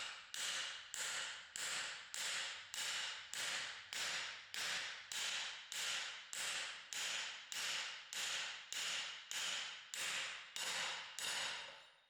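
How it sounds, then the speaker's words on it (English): Steady rhythmic hammering drives a new driveshaft carrier bearing onto the shaft of a Dodge Ram 2500/3500 truck using a metal pipe, with about twenty evenly spaced sharp metallic blows, close and loud, with no talk. "Place the new bearing onto the shaft and seat it with a metal pipe or bearing driver tool and"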